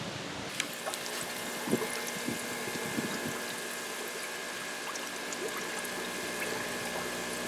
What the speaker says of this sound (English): So you can see all the bubbles coming up from the air stones.